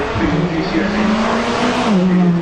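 A car with a 5.2-litre naturally aspirated V10 accelerates at a Festival of Speed hill run, its engine note rising and shifting pitch steadily, with a commentator talking over it.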